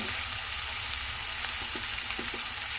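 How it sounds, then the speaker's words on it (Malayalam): Chilli powder fries in oil over sautéed ingredients in a pan for a dried stingray curry. A constant close sizzle with faint crackles fills the whole stretch, with no voices. "ഇനി നമുക്ക് മുളക് പൊടി ഇട്ട് കൊടുക്കാം"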